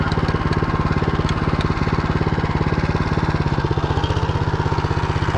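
A Motor Sich walk-behind tractor pulls a reversible plough through soil. Its engine thumps loud and fast in a steady, unbroken rhythm, close by, and no one talks over it.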